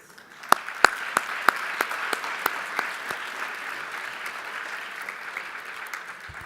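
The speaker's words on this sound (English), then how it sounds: "Maybe ask for a round of applause for all of them" Audience applause for the speakers at a school's annual speaker forum, a few sharp early claps swelling into a steady crowd of clapping that gradually thins out.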